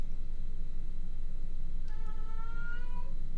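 A house cat meows once near the mic, a single drawn-out cry rising over a steady loud hum of background noise.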